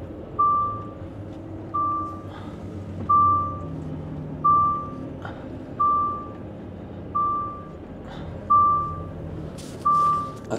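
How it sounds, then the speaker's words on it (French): Maintenance trucks at a Belgian site give out a series of eight loud, evenly spaced reversing beeps about every 1.4 seconds, over a low engine rumble. "Il y a des camions de maintenance."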